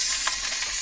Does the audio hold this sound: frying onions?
yes